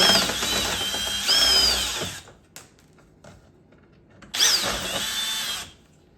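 Cordless power tool spinning out the bolts holding a Ford Ranger number plate, two loud whirring bursts with rising and falling pitch separated by a quiet gap with a few small clicks.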